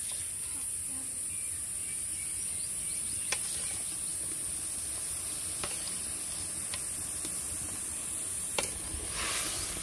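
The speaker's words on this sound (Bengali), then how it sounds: "ঝোলটা ফুটে গেছে, এবার আমি ভেন্ডিগুলো দিয়ে দেবো" Okra simmering in a boiling broth gives off a steady, close sizzle and bubbling hiss with a constant high whine behind it, broken by a few sharp ticks and clinks of a utensil against the pot.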